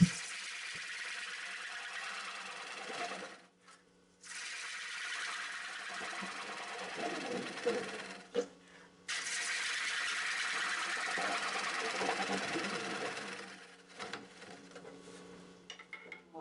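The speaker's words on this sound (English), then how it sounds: "I'm going to use the bottom hand gouge and finish this off, and then the scraper just to smooth it off at the very end." A wood lathe spins a platter while a bottom hand gouge cuts, giving a steady whirring, scraping roar that drops out briefly twice before resuming.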